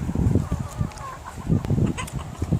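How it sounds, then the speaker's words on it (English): Chickens cluck in a coop on an allotment at Ivinghoe in the Chiltern Hills, Hertfordshire, with a run of soft, low, close calls bunched in irregular bursts and no talk over them. "just this allotment is for chickens"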